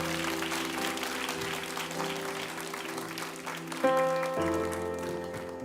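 Audience applause in a church youth prayer gathering welcoming a pastor, steady clapping filling the hall for several seconds over sustained music tones.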